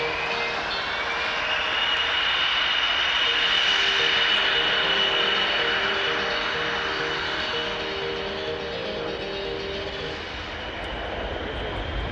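A Sukhoi Su-57 jet's engines roar steadily and loudly across the whole stretch, with a sustained high whine over a broad rumbling drone from a runway setting, swelling slightly midway.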